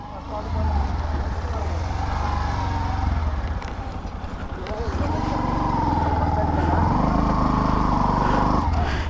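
A Bajaj Platina 110 ABS motorcycle rides along with a steady engine drone, and the pitch steps up as it shifts through gears. Wind rush runs under it, and someone talks over the engine.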